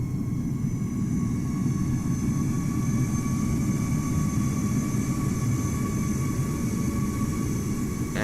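A KLM Boeing 787 airliner passes by in Microsoft Flight Simulator at Amsterdam Schiphol in cloudy weather, its jet engines giving a loud, steady low roar with thin high whines, sustained without voices.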